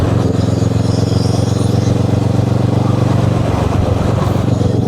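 A Kawasaki ER6N motorcycle engine held at high revs around 5,000 to 6,000 RPM, a loud continuous droning roar close by without pause, with wind noise on the road.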